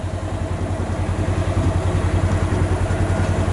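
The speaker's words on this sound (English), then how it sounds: "down here on the bulldozer straightening up some" A John Deere bulldozer's diesel engine runs steadily nearby on farm property, a loud rhythmic throbbing rumble with clattering, continuous and without speech.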